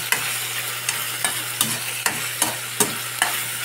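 Tilapia pieces with seasonings frying in a pan, a steady close sizzle broken by repeated sharp scrapes of stirring at a regular pace, with no voices.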